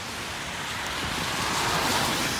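Rain and runoff water streaming off a driveway paved with plastic-covered pervious concrete, a steady loud wash of broadband noise with no talking.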